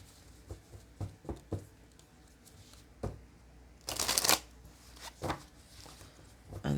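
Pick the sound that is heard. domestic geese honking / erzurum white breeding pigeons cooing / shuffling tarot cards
shuffling tarot cards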